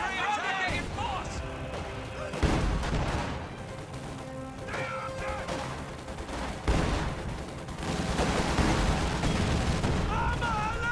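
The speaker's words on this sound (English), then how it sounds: "Su-76 firing. The barrage will convince those infantry to retreat and get out of there" Su-76 self-propelled guns fire an artillery barrage in a war video game, with heavy booming shots and crashing impacts rolling through in several loud bursts over continuous battle noise.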